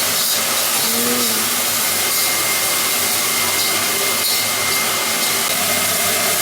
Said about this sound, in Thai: เราก็ต้องผัดเครื่องให้หอมก่อน